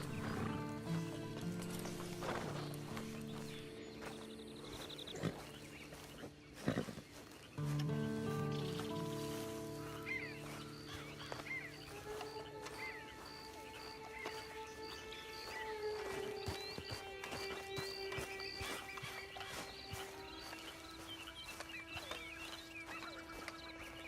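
Horse hooves clip-clopping along a trail in the Red Dead Redemption 2 game world, a steady moderate beat under layered tonal music and rustling ambience, with a louder thump partway through.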